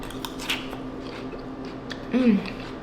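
Someone biting into and chewing a crunchy, spicy and sweet dish eaten on its own, a few soft close crunches and mouth sounds with one louder bite near the end, with no talking.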